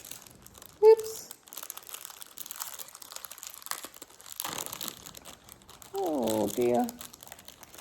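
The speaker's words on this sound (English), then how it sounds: "Sorry for the crinkling." Crinkling plastic packaging handled up close during a sewing and knitting project, bursts of rustling and crackling scattered through the clip, loudest near the end, with a voice briefly speaking.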